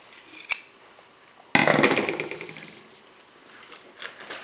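Scissors snip through dish towel fabric being cut for a rustic star wreath hanger: one sharp click, then a rasping cut lasting about a second that fades into quieter rustling.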